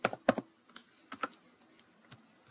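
Typing on a computer keyboard while filling in an online visa form, a few quick clusters of light key clicks with gaps between them, close and quiet.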